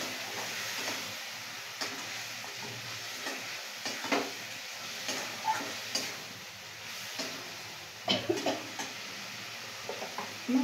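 Chicken being stirred and cooked in a pan for egg chicken biryani: a steady, soft sizzle with scattered scraping and clinking spoon strokes at an irregular pace, close by, no voices.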